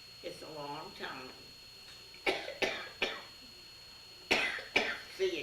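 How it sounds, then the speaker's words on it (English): A 92-year-old woman coughs in several sharp, close bursts, some in quick pairs, with brief voiced sounds between them. "See, you got me coughing now."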